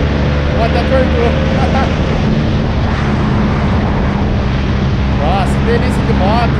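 A tuned Yamaha MT-07 motorcycle engine on a test ride, a loud, steady drone with wind rush throughout and a rider talking over it.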